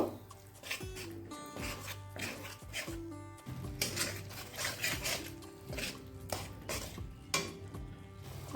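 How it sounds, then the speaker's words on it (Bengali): Sandesh being mixed with milk in a pan, steady scraping and clinking of a spoon against metal in repeated strokes, close by, with a low continuous hum underneath. "এবার সন্দেশটাকে ভালো করে দুধের সঙ্গে মিশিয়ে নেব"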